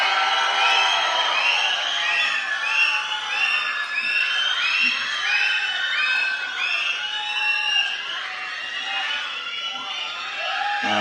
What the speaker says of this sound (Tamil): நல்ல கைத்தட்டலோட நம்ம வீட்டு பிள்ளைனா எம்ஜிஆர், எங்க வீட்டு பிள்ளைனா வேற யாரு, அண்ணன் எஸ்கே அவர்களை பேச அழைக்கிறோம்